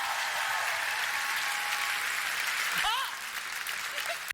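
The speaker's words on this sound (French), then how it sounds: "Faites un tonnerre d'applaudissements à Jarry!" A live audience at a comedy stage show breaks into a sustained burst of applause, dense and even, then gradually thinning out near the end.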